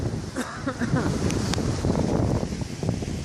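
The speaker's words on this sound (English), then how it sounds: "The wind has got right up." Strong wind sweeping through open Scottish wilderness on a cloudy hillside path, a continuous loud rushing roar with gusty buffeting close to the microphone.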